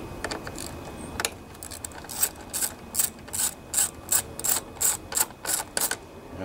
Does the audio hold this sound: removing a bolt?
yes